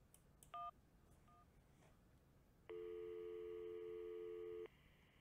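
Telephone keypad tones beep briefly, followed by a sustained steady tone of about two seconds while dialing into a busy line in the video game Syberia, quiet against faint background hiss.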